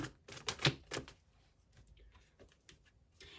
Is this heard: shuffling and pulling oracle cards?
yes